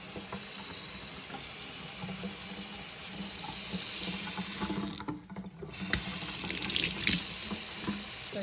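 Water runs steadily from a kitchen tap into a sink while sourdough is being shaped, a continuous splashing flow that briefly changes as hands move under it, with no talk.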